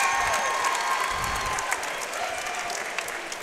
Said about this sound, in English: let's give both of these kickboxers a big round of applause